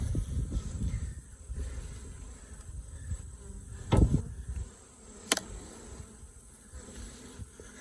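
Honey bees buzz close by during a nectar dearth while comb honey is harvested, their drone rising and falling with passing insects, plus a couple of brief clicks or knocks.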